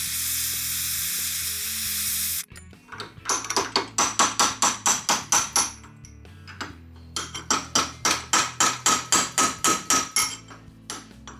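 Hammer blows on a chisel against a Porsche 914 trailing arm: two sharp, evenly paced runs of metallic strikes, about a dozen each, following a brief hiss of a torch.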